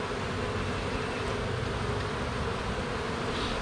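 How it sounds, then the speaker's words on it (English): Honey bees swarming around an open hive frame during an inspection, a dense continuous buzzing drone at steady loudness, close and unbroken, no voices. "Lots of bees though."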